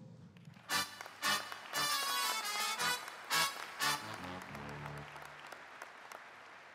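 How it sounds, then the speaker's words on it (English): A convention audience at the American Legion National Convention applauds, a steady wash of clapping with several louder swells, filling the clip with no talk over it. "Please give him a warm round of applause."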